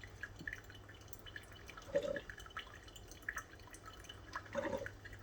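Soft water drips and trickles at irregular intervals inside a Black & Decker Brew & Go coffee maker over a low steady hum, quiet and close, with no voices.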